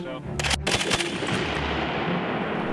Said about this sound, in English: This is what happens at the other end of the barrel of the Mark 19, which can launch 60 grenades per minute.